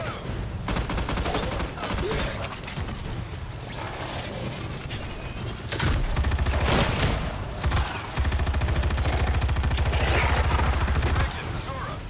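Battleship video game naval gunfire: heavy booming salvos and mechanical clanks from a ship's guns, loud and sustained, with a low rumbling roar in the later half.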